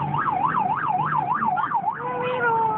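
A fire truck's loud wailing siren rises and falls in steady cycles, then shifts to a long drawn tone, close and continuous.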